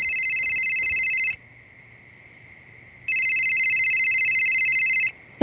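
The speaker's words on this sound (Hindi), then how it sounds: "तेरा फोन बज रहा है" A mobile phone rings at night indoors with a loud, steady electronic ringtone, sounding in two long bursts separated by a quieter gap, with no talking over it.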